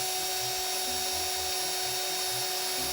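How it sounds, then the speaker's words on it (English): A power drill drives a screw at an angle into a rafter while a lean-to is built outdoors, giving a steady loud high whine that runs throughout with faint knocks underneath. "He screws the nail in an angle"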